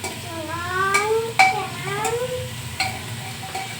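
Meat being fried and stirred in a pan in a home kitchen, with scraping spoon strokes and clinks of metal against the pan at irregular intervals, sizzling softly underneath, close by.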